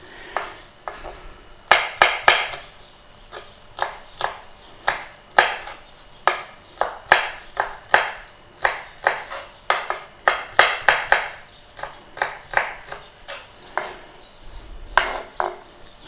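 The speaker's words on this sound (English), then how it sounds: "all we're going to do is just slice through those chilies a little bit" A knife slicing through a couple of chilies on a cutting board, giving a steady run of sharp, close taps and cuts in loose rhythm against a quiet background, with no talking.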